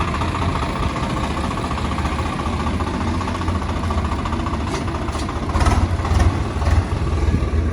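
A heavy diesel engine idles steadily nearby, a constant low rumble with a slight rise in revs toward the end.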